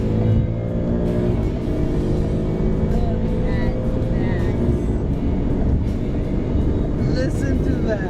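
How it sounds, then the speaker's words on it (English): Exhaust of an Alfa Romeo Giulia Quadrifoglio, a loud, steady engine drone with rich low rumble that keeps going for the whole stretch, with no voices over it. "I mean, you just hear the exhaust just, listen to that."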